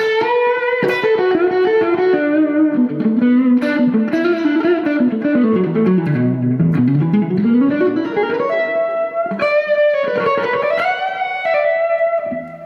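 An overdriven electric guitar, with added gain from an overdrive pedal, plays a continuous melodic line with gritty, sustained notes, loud and close, with no voices.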